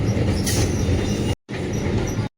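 A train passes close by, a loud, continuous rumble and rush of wheels on rails that cuts out briefly and then resumes at the same strength, with no voices.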